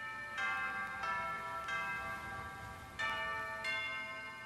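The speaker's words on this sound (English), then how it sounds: "Dancers performed alongside intelligent robots that played gaodiao, a traditional musical instrument similar to chime bells." Robots play the gaodiao, a traditional chime-bell instrument, at a cultural performance: four clear metallic strikes at a slow, uneven pace, each leaving a bright, ringing decay that overlaps the next.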